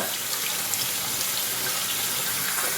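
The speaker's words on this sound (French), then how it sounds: "Donc, on le rince à l'eau froide, tout simplement." Salted salmon rinsed under cold running tap water, a steady hissing stream splashing close by for a few seconds without any speech.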